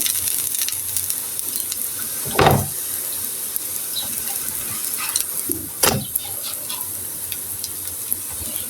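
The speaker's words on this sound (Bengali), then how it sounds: "আবার একটা দিয়ে দিলাম এটিও আগের মতো করে এপিট উপিট করে ভালো করে ভেজে নিবো" A red amaranth leaf snack fries in a pan of oil, a continuous low hiss of sizzling broken by two sharper clatters as the piece is turned over.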